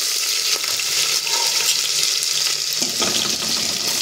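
Chopped garlic sizzling in hot oil in a pan while khichdi is being cooked, a steady loud crackling hiss that runs the whole time with no pauses.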